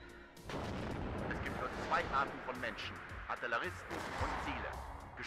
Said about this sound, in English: Told you they had artillery.